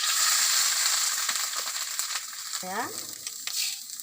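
Grated coconut sizzling in a pan over a gas flame, a steady bright frying hiss with a few scraping stirs, close and fairly loud, and a brief word spoken near the end.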